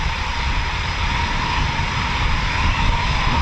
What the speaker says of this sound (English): Pointing out a Typhoon at me.